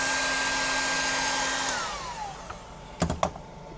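A hair dryer or heat gun blows steadily on a spinnerbait mold, a loud close whir that winds down and cuts off, followed by a few sharp clicks and knocks.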